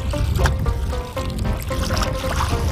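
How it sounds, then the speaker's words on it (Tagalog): Seaweed is rinsed in seawater, giving close splashing, sloshing and trickling with irregular bursts of movement against a steady watery wash. "I-rinse lang natin para mawala yung mga dumi niya."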